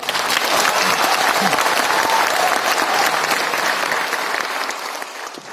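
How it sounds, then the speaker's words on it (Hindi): Sustained audience applause fills a sales meeting hall, dense and steady clapping from many hands, loud and close, tapering slightly toward the end. "बहुत जोर से होना चाहिए ना, तालियां बहुत ही जरूरी होती है"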